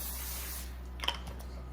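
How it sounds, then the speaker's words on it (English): Non-stick cooking spray hisses onto a hot Greco grill in one steady burst lasting under a second, followed by a few faint clicks and taps over a constant low electrical hum. "let's just spray it with a little non-stick spray here"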